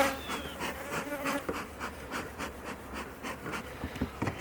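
A colony of honeybees inside a hive that is being given winter feed gives off a steady, close buzzing hum, a dense drone of many wings with a few louder individual bees passing near.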